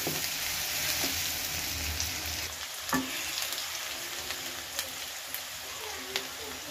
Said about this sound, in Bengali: পেঁয়াজ, রসুন আর কাঁচামরিচ ভাজতেছি তেল